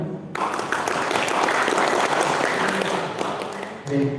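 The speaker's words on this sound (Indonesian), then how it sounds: "aplaus pemirsa" Audience applause fills a hall at the opening of a Bali language month seminar, a dense, loud, sustained clapping that swells in right away and holds steady for several seconds before easing off.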